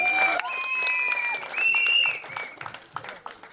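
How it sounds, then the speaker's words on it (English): An audience applauds at a film trailer launch event, with crowd clapping and cheering mixed with sustained whistling or musical tones early on, then thinning into scattered claps. "Big round of applause for her as well."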